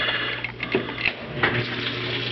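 A Hotpoint washing machine on a warm wash fills with water, giving a steady rushing and humming inflow with a few faint clicks and splashes.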